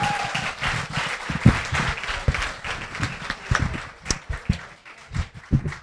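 An audience applauds at a talk with brisk, uneven clapping from a modest crowd. Individual claps stand out and the clapping tapers off toward the end.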